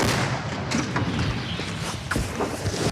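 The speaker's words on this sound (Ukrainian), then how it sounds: "Радянська Д-30 один за одним випускає снаряди українського виробництва." Several loud, sharp booms of a Soviet D-30 howitzer firing shells in quick succession, close by, with a dense rumbling background between shots.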